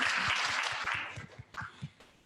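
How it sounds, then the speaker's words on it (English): Audience at a hospitality member event in a hotel applauding the board members, dense clapping that thins out into a few scattered, separate claps at the end. "A round of applause to our board members, please."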